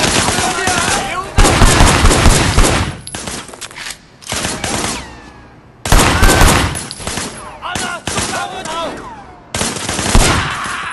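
Gunfire from the video game Sleeping Dogs: sustained bursts of rapid automatic shots, loud and close, in several long volleys separated by brief lulls, with some game noise between.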